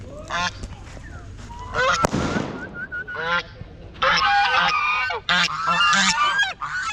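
Ducks quack and call loudly and repeatedly, close by on the Ganges riverbank, with a brief sharp bang and splashing noise partway through.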